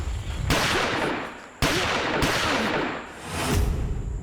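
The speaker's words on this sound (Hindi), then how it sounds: "साहब, ये तो गोलियों की आवाज है ना?" Several loud gunshot-like bursts, each cracking sharply then rolling into a long reverberant tail, spaced a second or so apart.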